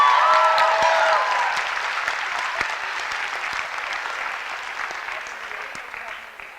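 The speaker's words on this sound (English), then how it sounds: "I want the crowd to give them a round of applause" Applause fills a poetry slam venue, starting strong with a brief voice over the opening, then gradually thinning into scattered individual claps as the crowd quiets.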